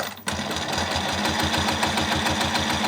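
A sewing machine stitches fabric along a quilting ruler with a quick, even mechanical chatter that runs steadily after a short start, close and fairly loud.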